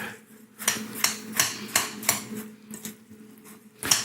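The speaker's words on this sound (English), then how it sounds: "Okay, and we mix it all together." Salt, pepper and other ingredients being mixed in a bowl, heard as a series of regular clinking utensil taps against the bowl, close and fairly crisp, with no talking.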